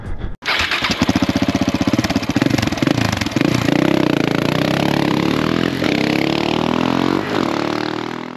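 A 2016 KTM 690 Enduro R single-cylinder motorcycle engine starts and then runs loud and close, a steady rough idle with slight rises in revs.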